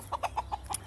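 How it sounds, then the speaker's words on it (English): Homestead chickens clucking nearby, a quick run of five or six short evenly spaced clucks, soft and close, with a low steady background hum. "These are our chickens."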